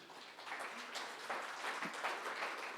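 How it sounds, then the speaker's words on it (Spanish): Church congregation applauding during a worship service, a dense, even patter of many hands clapping together, fairly distant and soft, sustained throughout without a break. "dale un aplauso al Señor."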